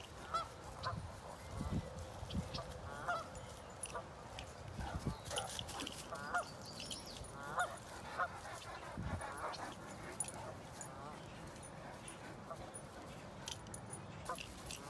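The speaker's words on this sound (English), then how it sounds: "Oh, goslings, check it out." Geese and goslings honk at a lake during a dog walk, repeated honks scattered through the scene at moderate distance, mixed with outdoor ambience and occasional dog sounds.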